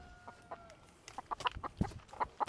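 A hen, loose somewhere she got into, gives a few short, scattered clucks at close range, with rustling and handling noises around her and no talk.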